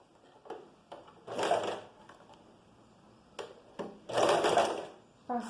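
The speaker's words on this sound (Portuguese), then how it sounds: "Passei aqui a minha união de costura e vou subir mais um pouquinho" Sewing machine running a seam on a top in short bursts, two loud close stretches of rapid stitching separated by quiet pauses and small clicks of handling.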